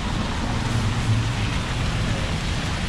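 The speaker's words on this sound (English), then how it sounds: "it's rainy day in New York." Heavy rain on a busy New York street at 54th and 8th Avenue hisses as a dense, constant wash, with traffic rumbling low underneath and no talking.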